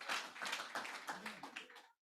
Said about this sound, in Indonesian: Tepuk tangan bagi Roh Kudus.